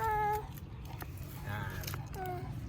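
A cat meows a few times beside a riverbank, its short tonal cries coming close and clear over steady low background noise, with people talking nearby.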